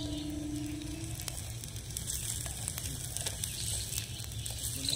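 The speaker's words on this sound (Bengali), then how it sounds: "এবার দিয়ে দেব রসুন, দিয়ে দেব লঙ্কা কুচি। এবার আমি একটু ভেজে নেব।" Garlic and chopped chili fry in hot oil in a pan, giving a steady, close sizzle with faint popping and crackle that runs unbroken and fairly quiet, with no talking.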